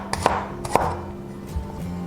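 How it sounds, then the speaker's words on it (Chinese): A knife slices peeled garlic on a cutting board while a peanut dish is prepared, giving a few sharp, close chops spaced about half a second apart, then softer taps, with no talk. "把剥好的大蒜切片"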